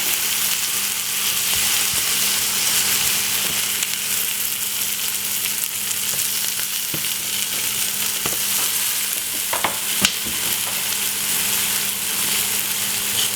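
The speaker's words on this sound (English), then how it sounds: "And I'm gonna get 2 slices of tomato. Fry." Two tomato slices frying in a pan for a baguette sandwich, a steady loud sizzle with a few faint clicks and stirring sounds throughout, no talking.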